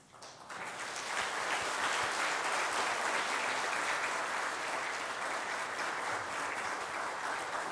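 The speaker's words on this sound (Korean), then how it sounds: "큰 박수로 우리 모두가 서로를 격려했으면 좋겠습니다" A church congregation breaks into loud, sustained applause at a Korean Sunday service, a dense wash of clapping hands that swells quickly and carries on evenly with no talk over it.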